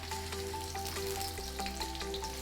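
Onions and garlic sautéed in a pan give a dense, continuous frying sizzle with faint stirring clicks, close and steady.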